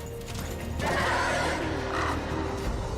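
Death's horse, Ruin, whinnies in the Darksiders II game, a loud drawn-out neigh in the middle over low background game ambience.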